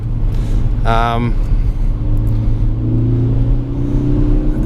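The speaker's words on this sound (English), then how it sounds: "Just flooring it in third gear here." A 2017 Ford Focus ST engine drones steadily under hard acceleration in third gear on slushy snow-covered roads, a continuous loud low rumble with a rising tone near the end and a brief whining burst early on.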